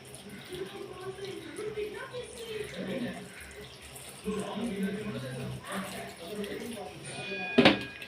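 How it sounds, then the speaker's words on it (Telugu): Water pours into a cooking pot holding washed tender tamarind leaves and salt, a soft splashing flow heard faintly beneath a voice speaking. "ఇప్పుడు ఇందులో మనకి సరిపడా వాటర్ పోసుకోవాలి"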